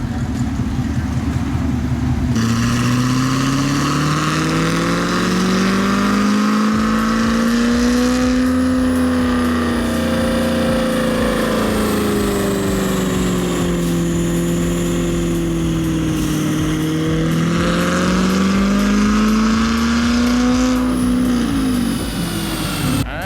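Chevrolet C7 Corvette Stingray engine running on a dyno: a loud, continuous pull with the pitch rising and falling through several long sweeps, close and steady throughout.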